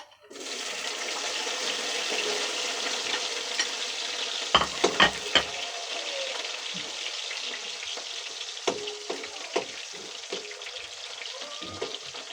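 Onions frying in hot oil that splatters, heard as a loud, continuous sizzle with crackles. A few sharp clanks of utensils against the pan come midway and near the end, close up with no talking.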